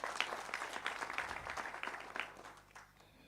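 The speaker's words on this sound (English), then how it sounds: "you really deserve to give yourself a round of applause" Applause from the audience at a regional political party conference, steady crowd clapping heard from a distance that fades out toward the end.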